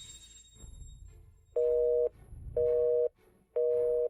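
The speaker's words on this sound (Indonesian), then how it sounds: "Telepon San Shui mati" A telephone busy signal plays three evenly spaced, loud, steady tones, each about half a second long, after a short stretch of low background noise.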